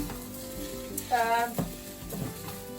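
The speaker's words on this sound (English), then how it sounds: "I just lob in loads of frozen diced onion. But I lob them in at the same time as the vegetarian mince." Frozen diced onion and vegetarian mince fry together in a pan in a caravan kitchen, giving a steady, close sizzle with occasional stirring scrapes and a faint voice in the background.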